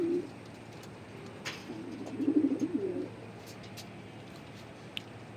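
A racing pigeon gives a brief low cooing call, softly rising and falling over about a second, with faint background noise and otherwise quiet surroundings.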